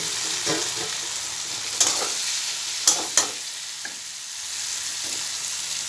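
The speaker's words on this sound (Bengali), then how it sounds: "মশলা থেকে তেল ছাড়ছে এবারে বেঁধে রাখা চাল কুমড়া দিয়ে দিচ্ছি" Ash gourd sizzles as it fries in spiced oil in a pan. A steady, close hiss is broken by a few sharp clinks and scrapes of stirring, and there is no talking.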